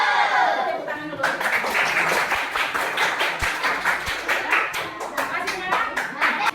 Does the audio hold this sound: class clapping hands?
yes